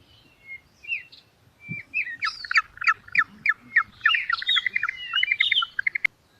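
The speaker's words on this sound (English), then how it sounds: "Penguin." Penguin call: a bright, close series of rapid squawking and braying notes that build into rhythmic bursts, sounding alone against a quiet background.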